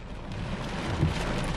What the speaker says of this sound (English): I gotta go in because it's gonna keep raining